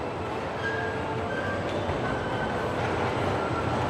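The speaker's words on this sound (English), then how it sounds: "you get more of the mechanical sounds of the carousel" Carousel machinery at a ride in the Binghamton area runs in a steady mechanical rumble with faint squeals and clicks, close and continuous with no talk.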